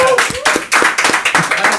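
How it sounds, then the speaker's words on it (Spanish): A small studio audience claps for the guest Gasper on a Spanish-language talk show, sharp separate hand claps in an irregular rhythm, close and loud, with voices speaking alongside. "Vamos a comenzar con un aplauso para Gasper"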